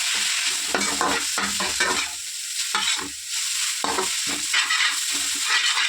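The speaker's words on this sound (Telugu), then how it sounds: "మిక్స్ చేద్దాం ఒకసారి మొత్తం కలిసేలాగా మిక్స్ చేద్దాం" Egg noodles being stirred with soy sauce in a frying pan, a steady scraping and tossing with a low sizzle underneath, in repeated strokes throughout, close up with no talking.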